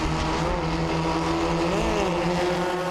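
FF1600 single-seater race cars scream past on the Chennai circuit during a championship round, engine notes rising and falling as several cars pass in close succession, loud and continuous.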